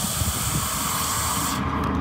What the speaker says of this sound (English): usually what you do is just kind of spray it down into the window runs on each end here